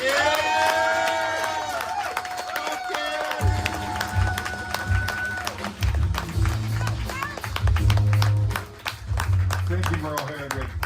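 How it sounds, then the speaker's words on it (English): Audience clapping and cheering at an amateur comedy show at Azoth in Portland, Oregon, a scattered patter of hands swelling through the room while voices talk and call out over it. "What a round of applause for Merle Hagrid."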